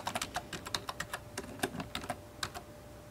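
Quick, crisp keystrokes on a computer keyboard while entering a button label in the Gambas programming environment on a Raspberry Pi, a close burst of a dozen or so clicks with no talk.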